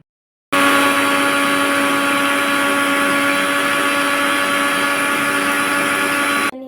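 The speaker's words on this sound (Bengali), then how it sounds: "ওটাকেই আমি আগে গুঁড়িয়ে নেব যে জন্য মিক্সি গ্রাইন্ডার জারে নিয়ে নিয়েছি" A mixer grinder jar grinding whole spices for biryani masala: one loud, steady motor whir that starts abruptly, runs without a break for about six seconds, then cuts off.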